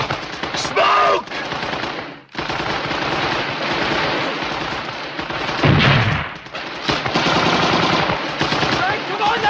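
Sustained World War II battle gunfire, dense machine-gun bursts and rifle shots rattling continuously for the whole stretch, loud and close with a brief lull, shouted voices mixed into the chaos.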